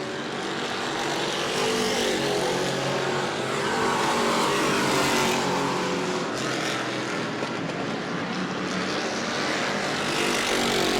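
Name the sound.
race cars lapping at New Smyrna speedway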